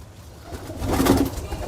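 Old-bloodline Teddy pigeons give a low, soft cooing that swells near the end of a short stretch, heard up close over a noisy loft background.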